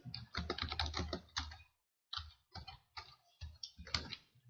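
A computer keyboard being typed on while entering a password, bursts of quick key clicks with a short pause in the middle, close and fairly quiet.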